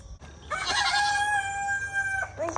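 A single rooster crows loudly and close by, one long drawn-out cock-a-doodle-doo standing alone against quiet background.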